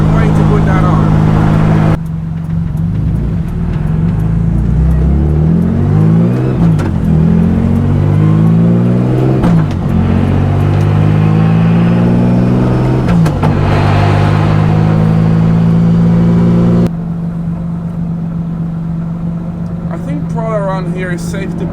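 A BMW with a turbocharged engine running 11 PSI revs loudly and repeatedly, engine notes climbing and falling, with a thin turbo whistle above them and someone talking over it.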